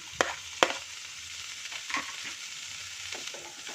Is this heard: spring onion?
yes